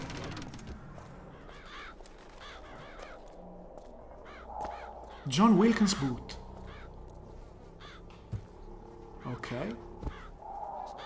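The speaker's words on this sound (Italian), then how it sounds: "Un corvaccio." A crow caws several times in Bioshock Infinite, harsh repeated calls at moderate distance, mixed with a voice speaking and a louder game noise midway.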